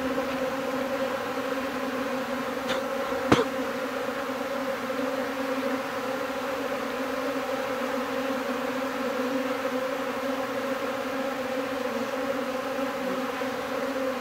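A swarm of Japanese honeybees gathers in a ball on a board set beneath tree branches, producing a dense, steady hum that stays constant throughout, with one sharp click partway through and no talking.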